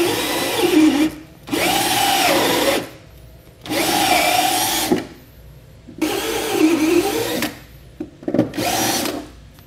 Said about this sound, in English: step bit would also work fine if you wanna use that to enlarge it to the 9/16 size